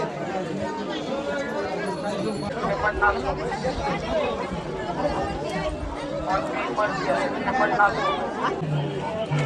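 A dense crowd chatters at the busy Jejuri temple on a Sunday, with overlapping voices forming a steady, close babble throughout.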